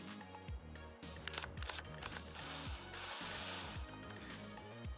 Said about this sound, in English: I'm just going to drill a 4mm hole right in the front corner here.